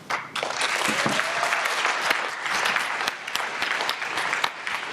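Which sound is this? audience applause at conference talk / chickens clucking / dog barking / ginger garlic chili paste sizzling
audience applause at conference talk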